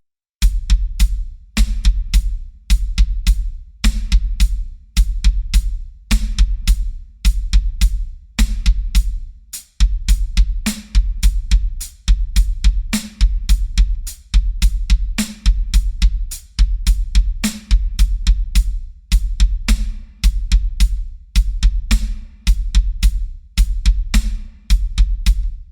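A drum kit kick drum plays speed exercises chained together over several bars: rapid low thuds in fast groupings with periodic cymbal or hi-hat accents, steady and tight, close and without talking.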